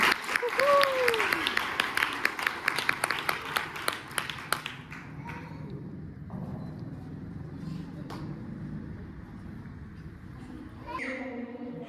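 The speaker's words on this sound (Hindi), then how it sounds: "खुदा के जलाल के लिए एक बार जोरदार ताली करना चाहती हूँ" Applause with sharp claps bursts out at a wedding event, loud at first and thinning out after a few seconds, with people talking underneath and a faint squeal early on.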